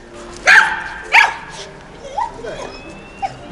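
A customs sniffer dog searching a Honda Gold Wing motorcycle for hidden cigarettes gives two sharp, close barks followed by softer yips and whimpers, with voices talking nearby.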